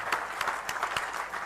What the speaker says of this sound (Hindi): तालियां तो बनती।